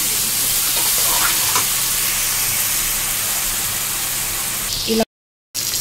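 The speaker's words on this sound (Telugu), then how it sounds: "ఫ్రెష్గా రుద్ది పెట్టుకున్న అల్లం ముద్ద, కొద్దిగా సాల్ట్ వేసుకొని బాగా ఇది పచ్చి స్మెల్ పోయేంత వరకు వేయించుకోవాలి" Ginger paste with salt fries for a chicken curry, giving a loud, continuous sizzle and hiss from the pan that cuts out abruptly for a moment near the end.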